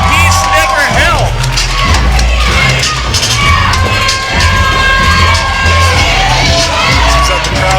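A wrestling crowd at a hometown championship show cheers, whoops and shouts loudly and continuously, with layered voices and whistles filling the room.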